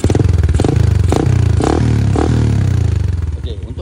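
A Yamaha LC v3 motorcycle engine runs close and loud with a throbbing, slightly clattery idle, punctuated by a series of quick throttle blips that rise and drop in rapid succession.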